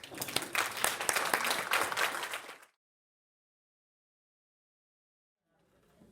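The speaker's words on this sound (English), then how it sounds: "let's give them a round of applause" Audience applause at a nursing professional development event, a dense burst of clapping for about two and a half seconds that cuts off abruptly into silence, with a faint rustle returning at the end.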